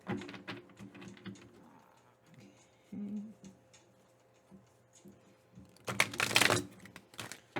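Soft, rapid riffling and tapping of cards being shuffled close by, in uneven bursts, with a louder flurry near the end.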